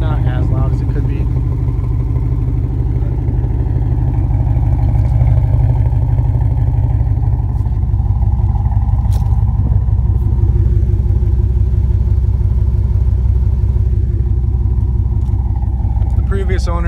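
A warm Pontiac Grand Prix GXP with a straight-piped exhaust idles loudly up close, a deep, continuous throaty rumble with slight clatter and small rises in revs throughout.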